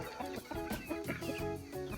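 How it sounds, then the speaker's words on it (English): Chickens clucking close by near a coop, several short overlapping clucks and calls in quick succession, moderately loud with no talking. "we have to somehow figure out how to get all these chickens to go into the same coop"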